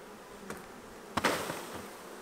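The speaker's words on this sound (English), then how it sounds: "So this is mostly forager bees." Forager honey bees buzz faintly around an open hive frame being worked, with brief louder buzzes as individual bees pass close to the microphone.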